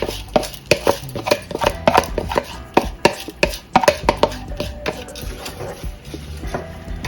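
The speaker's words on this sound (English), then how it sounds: "Give it a stir." Rice and split peas being stirred in a cooking pot, with dense clattering utensil knocks and scrapes against the pot in an irregular rhythm, close and fairly loud, no talking.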